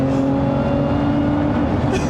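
A 2024 Lotus Emira supercharged sports car engine holds a steady, loud drone close by, with a brief swell near the end like a rev.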